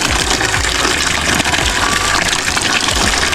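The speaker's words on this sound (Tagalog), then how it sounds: "Ganito po, manual pumping po." Water gushes steadily from a hand-operated manual pump at the water source for an Azolla pond, a loud, continuous splashing flow with faint rhythmic pumping strokes underneath.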